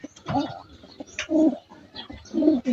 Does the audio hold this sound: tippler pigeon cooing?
yes